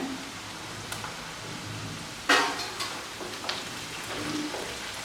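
Sliced onions and ginger garlic paste fry in a pan for potato curry, a soft continuous sizzle with a sharp crackling burst partway through and a few scattered pops.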